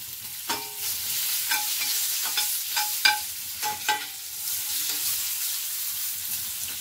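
Onions frying in oil left over from frying Bombay duck fish, a steady hiss and crackle of sizzling with a series of sharp utensil clicks and scrapes as they are stirred, no voices.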